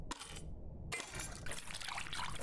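Warm water poured over tamarind in the video game Venba, a close, bright splashing pour in short bursts with a brief pause before continuing as a steady gurgling stream.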